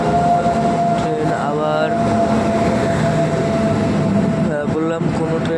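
Inside a Kolkata to Delhi express train while another train overtakes on a parallel track, a loud continuous rolling rumble with a steady tonal hum and brief whining sweeps, a voice speaking over it.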